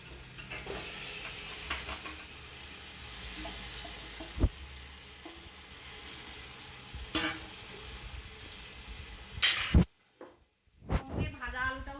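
Marinated chicken drops into spice paste fried in a pan, giving a steady close sizzle with occasional sharper pops. The frying hiss cuts off near the end, and a voice is briefly heard.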